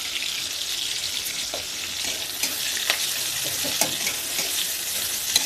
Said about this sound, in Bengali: আমি ঝাল আর পেঁয়াজটা ভালো করে ভেজে নিব।